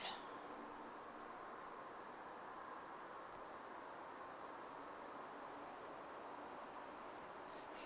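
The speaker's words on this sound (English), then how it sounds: "you can definitely still hear that low rumbling of traffic" Low, steady rumble of distant traffic spreading as a broad wash of noise across an open countryside field with sheep nearby, unchanging and fairly faint throughout.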